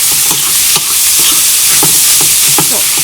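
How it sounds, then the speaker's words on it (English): Loud, close frying in a pan for spaghetti sauce, a dense steady sizzle broken by repeated scraping stirs, with no voices. "Fry well, fry it very well."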